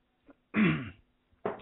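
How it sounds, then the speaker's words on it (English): A single adult man's cough or throat clearing, close and fairly loud, with a faint short sound before it and another brief cough-like burst after a pause. "I've got a bit of a cough."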